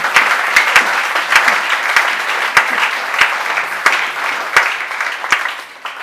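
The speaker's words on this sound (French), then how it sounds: "tu peux aussi acclamer très fort pour la gloire de notre Seigneur" Loud, steady applause from a church congregation fills the space, dense and continuous with sharp individual claps standing out throughout, no voices over it.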